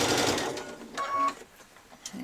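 A sewing machine stitches a 5/8-inch seam on a child's dress, running in one close, steady whirring burst with a brief pause, with no talking.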